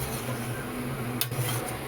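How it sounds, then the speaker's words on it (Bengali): Fried potatoes being stirred into a pan of desi chicken, a close, continuous scraping and clinking of a utensil against the pan over a steady background hum, with one sharper knock partway through. "এইবার আমি যে আলুগুলোকে ভেজে রেখেছিলাম সেই আলুগুলো এর মধ্যে দিয়ে দেব, যাতে আলুগুলো আর চিকেন একসাথে কষানো হয়"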